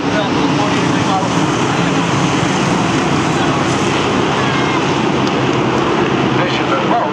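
DARE stock cars race past on a short oval track during the Spring Sizzler, their engines making a loud, unbroken roar while an announcer talks over it.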